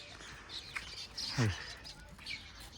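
Sparrows chirp in short, scattered morning tweets seen from a rooftop, fairly faint against a quiet outdoor background, with a brief louder call near the middle.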